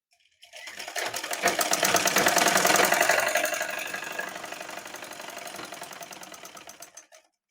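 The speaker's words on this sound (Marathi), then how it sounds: "आता मी तुम्हाला दाखवते शिलाई मारून." A sewing machine stitching a petticoat runs alone in one continuous burst of rapid, even needle clatter, swelling louder early on before easing off and stopping.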